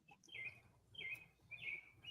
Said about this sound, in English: I heard bird chirping